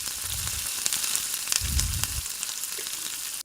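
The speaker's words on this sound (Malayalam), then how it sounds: "ഇനി ഇതിലേക്ക് നമ്മൾ നേരത്തെ ചതച്ച് വെച്ചിട്ടുള്ള ഇഞ്ചിയും വെളുത്തുള്ളിയും നമ്മൾ അരിഞ്ഞു വെച്ചിട്ടുള്ള പച്ചമുളക് കൂടി ചേർത്ത് നല്ലോണം ഒന്ന് വഴറ്റിയെടുക്കാം" Onion, ginger, garlic and green chili sauté in a hot pan with a loud, close sizzle and hiss, stirred in two brief scraping surges.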